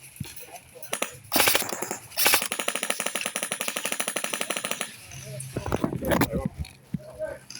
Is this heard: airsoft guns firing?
yes